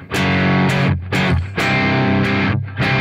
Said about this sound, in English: Now it's just a distortion.